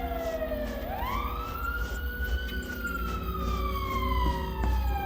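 Wailing electronic sirens blare in the GiggleLand mascot horror game, a rising and slowly falling tone with layered harmonics sounding steadily and loudly throughout, with no speech over it.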